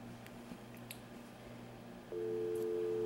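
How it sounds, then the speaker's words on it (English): An office desk phone emits a quiet low hum with a few faint button beeps, then a steady dial tone comes on and holds near the end. "We got a dial tone."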